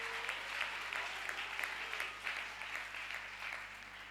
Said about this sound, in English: We make clap hands for Jesus.